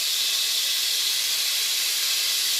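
Unsalted butter sizzles in a hot pan for smothered cabbage, making a loud, steady, close hiss that holds unbroken through the whole moment with no voices over it.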